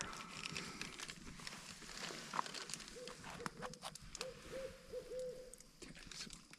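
An owl hoots at night near a campfire in the Boundary Waters wilderness, several faint hoots in a short series from a distance, with quiet camp rustling around them.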